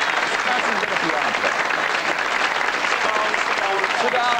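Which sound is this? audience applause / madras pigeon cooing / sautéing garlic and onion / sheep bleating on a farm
audience applause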